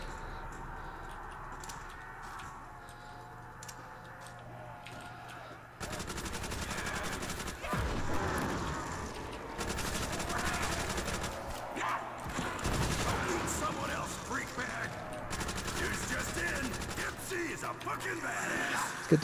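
Sustained automatic weapon fire from a Call of Duty zombies custom map, bursts of gunfire rattling continuously over chaotic game noise for most of the stretch.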